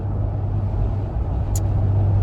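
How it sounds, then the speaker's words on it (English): Steady low rumble of a car being driven on the road, close and continuous from inside the cabin, with a brief faint click near the end and no talking. "I'm actually driving headed to the gym"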